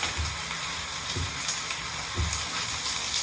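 Mixed vegetables with fungus sizzle steadily in a hot wok while being stir-fried, a constant dense crackle with soft scraping strokes of the spatula recurring about once a second.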